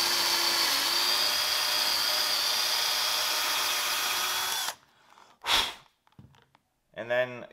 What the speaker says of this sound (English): And you could drill all the way through, and this is maple, so it's a little tougher to drill.